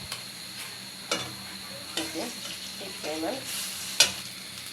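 Onion, tomato, potato, chicken or goat liver and spices sauté in a pan, a low steady sizzle broken by stirring scrapes and taps of a spoon, with a brief spoken word.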